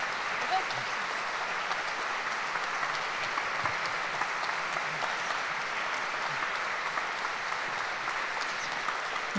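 Dense, even applause fills a parish church concert of Polish songs, a steady wash of many hands clapping for the performers that holds at one level with no voices rising above it.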